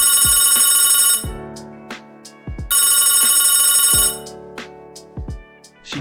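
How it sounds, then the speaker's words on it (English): A telephone bell rings in two long, loud bursts separated by a short pause, close and clear with no voices. "the phone rang"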